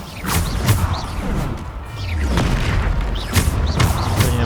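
Spell explosions in the video game Hogwarts Legacy: several loud booms and crashes come in quick succession over layered game effects.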